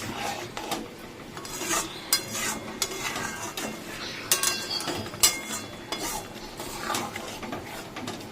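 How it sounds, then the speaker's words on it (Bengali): Mutton is sautéed and stirred in a metal pot with a spatula, giving continuous close scraping and rasping, with frequent metallic clinks and knocks against the pot sides and a soft sizzle beneath. "এই আবার একটু কষিয়ে নিলাম।"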